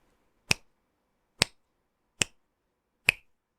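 Four crisp finger snaps ring out alone against silence, each sharp and close, spaced at a slow, even rhythm.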